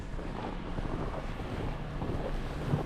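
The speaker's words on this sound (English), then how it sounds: "Even when they clean it, the wind gusts are still bringing the snow from the roof." Winter blizzard wind in Montreal, Canada, gusting and blowing snow off a roof, a steady broadband rushing roar with buffeting against the microphone and no voices.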